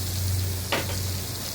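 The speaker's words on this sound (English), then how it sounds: "we're going to add our little pat of butter" A pat of butter sizzling in a hot pan beside a ribeye steak, a steady close hiss with a brief louder flare partway through and no talk.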